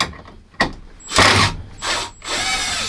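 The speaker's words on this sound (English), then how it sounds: "I was just pre-drilling the holes" A power drill pre-drills holes in a few separate bursts of whirring and grinding, close and fairly loud, with short pauses between them.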